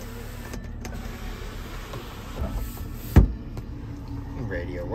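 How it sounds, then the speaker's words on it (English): Sunroof motor on a 2003 BMW 330xi whirring steadily inside the cabin, with a brief clunk partway through as the panel moves; a quiet electric hum runs throughout under faint background noise. "Sunroof."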